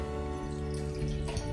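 Water poured into a small indoor water garden for a betta fish, a continuous trickling splash close by, layered over a steady hum.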